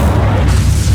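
An Incendio fire spell cast in the Hogwarts Legacy video game, a loud, dense burst of low rumbling boom and whoosh filling the whole second without pause.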